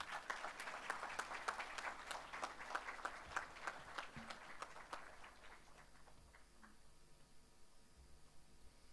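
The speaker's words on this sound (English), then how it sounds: "Another big round of applause." Applause from a conference audience at a digital transformation summit, many hands clapping together in a brisk, dense rhythm that tapers and thins out over several seconds, slightly distant in the hall.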